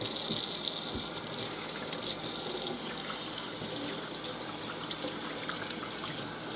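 Running tap water splashes continuously over a freshly cleaned fish in a sink, a steady close gushing flow with no voices heard.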